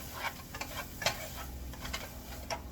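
Stir-fry vegetables and pork with a splash of soy sauce being stirred in a hot pan, with soft scraping strokes and light clicks over a low, steady sizzle at close range.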